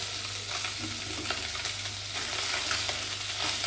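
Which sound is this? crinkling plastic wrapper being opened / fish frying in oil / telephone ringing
fish frying in oil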